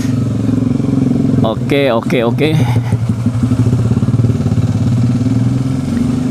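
Kawasaki Ninja 250 SL motorcycle engine running steadily at idle, loud and close, with a brief rev burst and a voice speaking over it for a moment.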